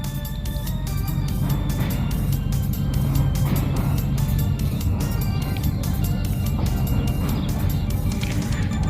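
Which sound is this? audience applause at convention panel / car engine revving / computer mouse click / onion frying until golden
car engine revving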